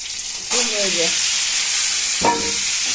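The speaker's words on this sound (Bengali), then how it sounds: "একটা শুকনো লঙ্কা ফোড়ন, একটা কাঁচা লঙ্কা ফোড়ন, আর সর্ষে ফোড়ন দিচ্ছি" Dried chili, green chili and mustard seeds hitting hot oil burst into loud, close sizzling that jumps up suddenly and then holds as a steady hiss, with a brief stir or clink partway through.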